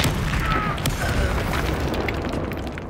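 A Bombarda blasting spell in Hogwarts Legacy detonates in a dense, loud roaring burst that fills the whole stretch, with rumbling debris and faint mechanical clatter running through it.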